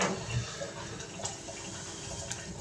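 Tap water pouring over drained cannellini beans in a kitchen for a burrito filling, a steady close rushing splash with slight gurgling, continuous and alone.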